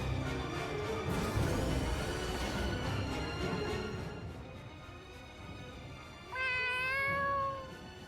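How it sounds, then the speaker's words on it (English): A cat meows in the video game Tales of Xillia 2, a clear, drawn-out, rising-then-falling cry near the end that follows a stretch of busy game music and effects. "Is that your cat?"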